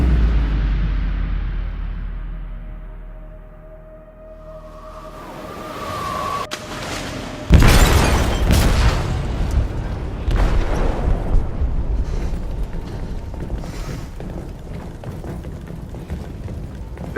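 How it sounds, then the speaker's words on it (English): An explosion in a ship's hold in a video game: a deep falling rumble builds into a sudden heavy boom, followed by a long roaring, crackling aftermath with scattered bursts, loud and close. "They detonated an explosive in the hold."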